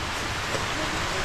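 Heavy rain pours down in a brief, dense wash of steady hiss with no distinct voices.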